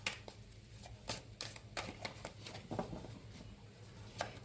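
A deck of tarot cards being shuffled by hand in a quiet room, with repeated crisp riffles and flicks coming in uneven bursts, close up and fairly soft.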